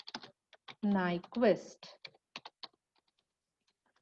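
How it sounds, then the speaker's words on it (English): Someone types on a computer keyboard during a lecture: sharp, irregular key clicks, close and fairly quiet, with a brief spoken word breaking in among them. "here I am typing the example."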